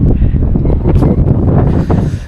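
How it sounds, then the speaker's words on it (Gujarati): Cold wind blows across a house rooftop terrace, buffeting the microphone in loud, gusty rumbles that swell and ease over a couple of seconds. "ધાબા પર ભાઈ મસ્તીનો ઠંડો પવન આવે છે"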